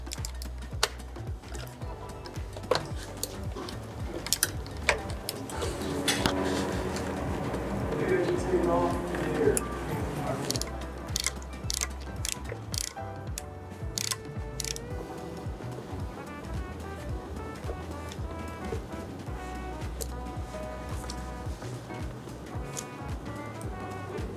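A ratchet wrench works in a tight, awkward spot under an SG250 scooter, making quick bursts of light clicking that come and go while someone talks over them.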